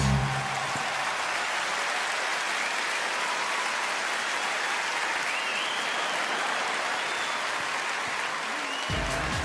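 An audience bursts into applause after a magician's fabric-reveal trick, a dense, uniform clapping that holds steady and loud for several seconds before briefly cutting off near the end.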